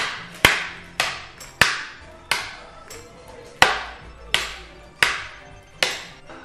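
Bars of cooking chocolate snapped apart one after another: eight crisp, sharp cracks at a fairly even pace, each with a quick ringing fade, close by and with no talking.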